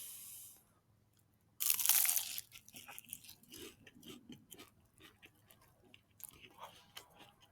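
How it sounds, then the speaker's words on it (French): Crisp, loud crunches as fried karaage chicken is bitten into, followed by a run of softer, irregular chewing sounds close to the mouth. "on va goûter déjà la brique Karaage, voir ce que ça donne"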